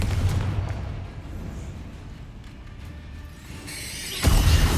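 A Confringo fire spell bursts in Hogwarts Legacy, rumbling low through the middle, then a sharp, loud blast lands near the end.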